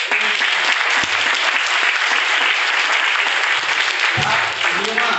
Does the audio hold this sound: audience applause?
yes